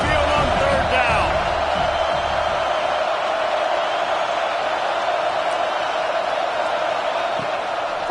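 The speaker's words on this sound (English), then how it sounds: "The Tide crowd rolling noise down onto Saban Field on third down" A huge Alabama Crimson Tide stadium crowd roars steadily on third down at Saban Field in a Miami vs Alabama football game, a dense, continuous wall of loud noise.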